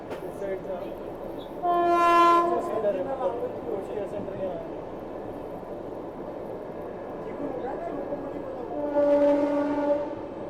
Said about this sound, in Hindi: दोस्तों, अभी हम प्रतापनगर रेलवे स्टेशन को क्रॉस कर रहे हैं।